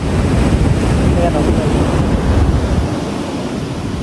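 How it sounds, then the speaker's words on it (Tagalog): Strong ocean waves surge and crash at high tide near a coastal fishing and crabbing spot, a loud, continuous roar of surf with heavy wind buffeting the microphone and no voices. "ang lakas ng alon."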